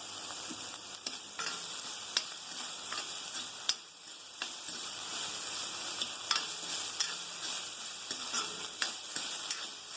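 Ginger garlic paste sizzles steadily in a hot pan for a sweet chickpea sundal snack, with sharp clicks and scrapes of a spoon stirring at irregular intervals, close and fairly loud throughout.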